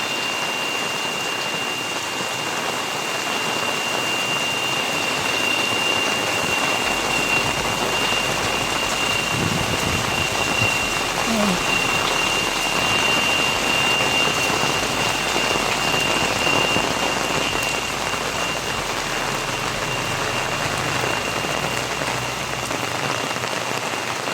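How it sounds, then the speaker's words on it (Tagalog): Heavy typhoon rain and wind pour steadily on a surface in Camarines Norte, a dense unbroken hiss with a low rumble beneath, no voices. "Lakas po ng ulan dito."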